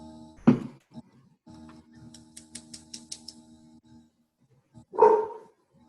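A pet dog barks during a Zoom call: two sharp, loud barks several seconds apart, with softer whines and yips and a faint droning tone between them.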